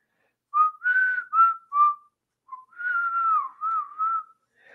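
A person whistles a short, clear melody up close, several brief notes followed by a longer sliding phrase, with no talking.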